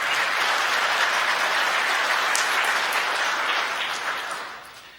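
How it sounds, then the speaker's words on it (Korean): A church congregation applauds to welcome a newly registered member during a Sunday service, a dense, even wash of clapping that holds steady and then fades toward the end. "여러분들 환영의 박수 부탁드리겠습니다"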